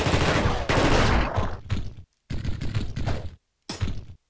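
Gunfire from The Thing video game, with rapid loud bursts of shots in three separate volleys broken by short silences.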